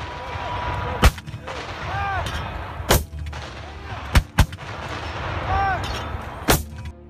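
An M109 self-propelled howitzer fires several loud, sharp booms at irregular intervals, some in quick pairs, over continuous low rumble, with voices faintly in the background.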